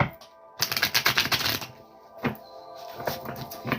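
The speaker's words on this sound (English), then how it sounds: "So go ahead and shuffle the deck" Tarot cards being shuffled by hand in quick riffling bursts, a dense rustling flurry followed by a few shorter flicks and taps, fairly close and with no talking.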